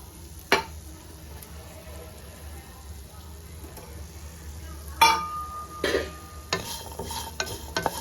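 Grated coconut sautéing in a pan for green pea kurma over medium flame, a soft steady sizzle with occasional sharp clinks of a spoon scraping and stirring against the pan.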